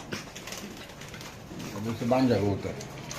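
Pigeons coo softly at a pigeon farm, a few low throaty calls that swell near the end while someone talks over them.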